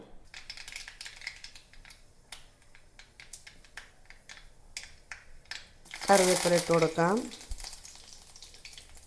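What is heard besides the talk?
mustard seeds popping in hot oil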